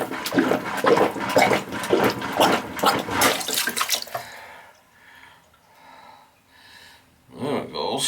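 Water running and gurgling into a clogged tub shower drain, loud rushing at first then fading to quiet trickling and slow draining, with a short burst of splashing near the end.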